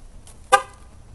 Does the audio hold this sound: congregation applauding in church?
no